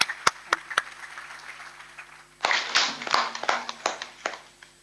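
Audience applause for the chief guest at a smart city conference inauguration ceremony in a hall, beginning with a few scattered claps, then swelling into a fuller burst of clapping that fades out.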